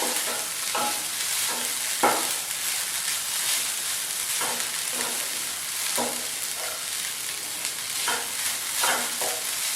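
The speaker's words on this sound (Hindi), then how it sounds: "धीमी गैस पर हमें ये नारियल भूनना है 2 मिनट तक" Grated coconut roasts on a low flame with a soft, even hiss, while a spoon scrapes and stirs it in repeated strokes every second or so.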